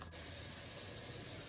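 A spray bottle gives a steady, close hiss of mist that lasts just over a second after a brief pause. It is soft and heard on its own.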